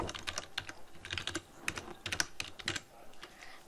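Close computer keyboard typing in quick, irregular bursts of keystrokes while text is entered in Cinema 4D, with short pauses and no speech.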